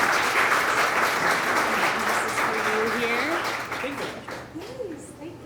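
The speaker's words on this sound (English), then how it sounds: "Let's give him a round of applause." Audience applauding after an entrepreneurship Q&A event, a loud sustained wash of clapping that tapers off, with a voice speaking over it near the end.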